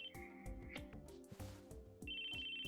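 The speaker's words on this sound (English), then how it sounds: "His phone went off in his pocket." Electronic phone ringtone going off in the Chaos Child visual novel game, a repeating melodic chime pattern with steady pulses, loud and clear, playing alone.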